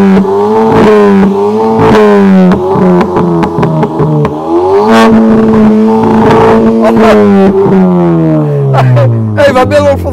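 Car engine revving hard at close range, likely a Golf TCR, Leon Cupra or Polo GTI, with repeated rising and falling revs, loud sweeps and sharp bursts between throttle blips.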